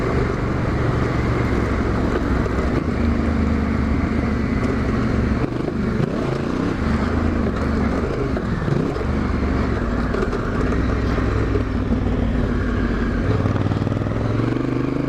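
Dirt bike engine riding a sandy trail in the Hunter Valley, a steady loud motor drone with shifting revs throughout, heard close and alone with no talking.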